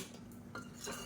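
A utensil scrapes and clinks faintly against a pot while vegetable kulambu with drumsticks is stirred, a couple of soft strokes over low kitchen background.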